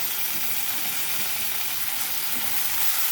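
Eggplant pieces sizzle loudly in a hot frying pan, a steady, close, unbroken hiss of frying oil that keeps going from start to finish with no talk.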